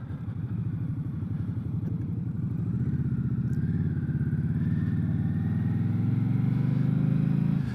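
A 2022 Indian Scout Rogue motorcycle engine rumbles steadily at close range, its deep throbbing exhaust rising slightly in pitch as the bike accelerates.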